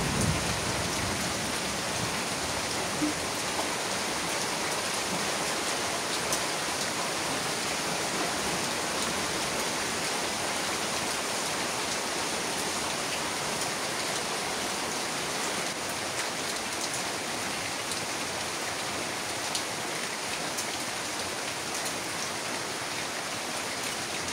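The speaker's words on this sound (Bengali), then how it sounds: "ফুলের পানিটা বৃষ্টি শুরু হচ্ছে" Steady rain pours down throughout, a dense, even hiss of drops striking surfaces, close and continuous with no voices.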